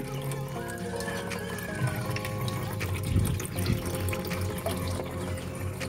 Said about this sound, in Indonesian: Airnya kita kurangi dulu menggunakan pipa kecil.